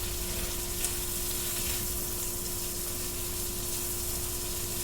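Potatoes fry in a pan with a constant close sizzle and soft crackling, a brief scrape of a utensil near the start, and no talking.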